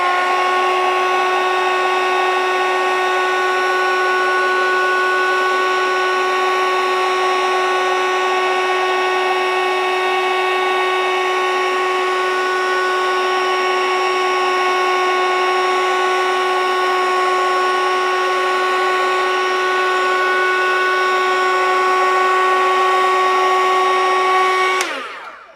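A hair dryer blows steadily on coloured structure paste, a constant whining motor hum with a strong tonal drone held for about twenty-five seconds before it switches off at the end.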